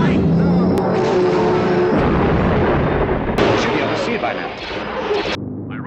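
Anti-aircraft fire from guns on the surface and on towers during a wartime dam-raid film scene, a dense, loud, continuous roar of distant gunfire and engine drone under speaking voices.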